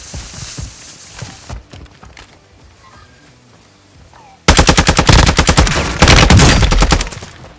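Rapid automatic gunfire in the video game Warzone, starting with scattered shots, then a dense, loud run of bursts in the second half that stays close and continuous.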